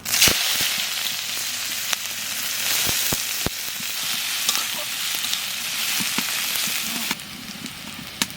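Onions and cumin seeds fry in hot oil for dal, a loud continuous sizzle broken by several sharp spatula knocks against the pan, with no one speaking.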